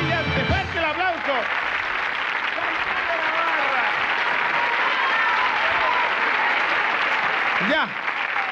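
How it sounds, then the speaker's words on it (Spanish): Studio audience applause during a Spanish-language tribute television show, a steady, moderately loud wash of clapping lasting several seconds with a host's voice briefly heard over it. "Fuerte el aplauso."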